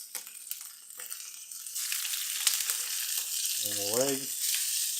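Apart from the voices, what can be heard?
wild duck breasts and legs frying in a pan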